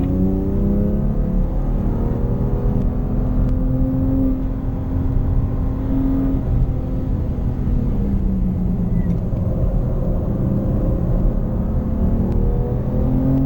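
BMW M2 Competition cars lap the Sepang race track, a steady close engine drone with rising and falling revs, heard from inside the car.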